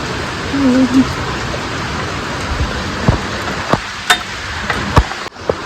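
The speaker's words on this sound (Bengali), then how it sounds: "টিপটাপ টিপটাপ করে বৃষ্টি পড়ছে শুনতে পাচ্ছেন" Rain patters outside a window as a continuous soft wash of drops, with sharper individual taps and knocks standing out now and then near the end.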